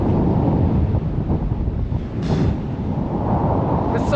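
Strong wind buffets the microphone high on the walls of Kumbhalgarh Fort, a loud, continuous roaring rumble with gusty surges throughout and no pause.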